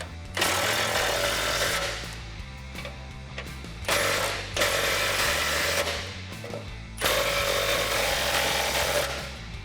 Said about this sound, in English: Grab your 18mm socket and tighten the hardware at the side of your bumper.